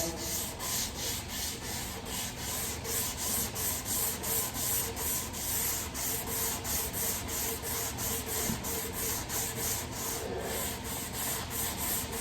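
Hand sanding along the edges of a wooden table being refinished, a loud, close, continuous rasping rub pulsing in steady back-and-forth strokes for the whole stretch.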